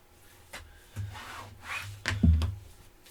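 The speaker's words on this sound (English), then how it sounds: "open them up, and burnish one more time on that score line" A tool burnishes a score line on folded paper for a mini album: a few short, close, dry rubbing strokes over about three seconds.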